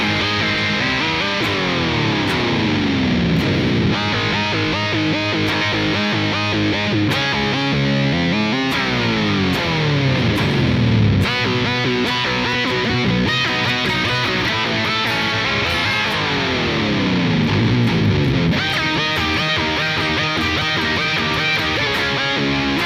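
An electric guitar runs through a modded Whammy pedal with distortion, producing gritty sustained notes that sweep up and down in pitch in repeated dives and rises, loud and continuous.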